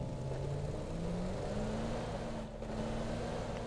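Motorcycle engine in the video game PUBG, heard on the Miramar map. It is a steady mid-pitched drone whose pitch climbs gradually as the bike accelerates, with a brief dip near the end and no talk over it.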